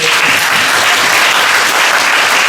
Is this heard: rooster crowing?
no